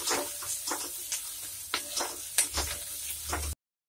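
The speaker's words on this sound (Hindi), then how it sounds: "लगभग 1 मिनट प्याज फ्राई करने के बाद हम इसमें लहसुन और अदरक का पेस्ट डाल के फ्राई कर लेंगे" Onion frying in a pan with garlic and ginger paste, a quiet steady sizzle broken by scraping stirs and small crackling pops, continuous until it cuts off.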